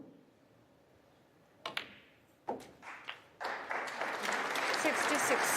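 Snooker crowd at the 2024 Masters first round breaking into applause, a few scattered claps and taps swelling into sustained clapping over a faint room hum.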